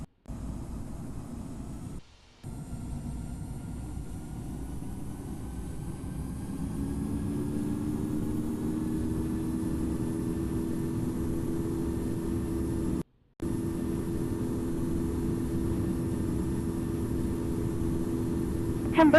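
Airliner engines spool up and roar steadily during a takeoff roll at Lisbon in the Infinite Flight simulator, a continuous droning hum with a rising whine, briefly cut out twice.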